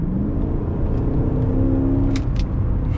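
A 2006 Chrysler 300C with a Hemi engine accelerates hard, giving a loud, close, rising engine roar that climbs in pitch over a few seconds.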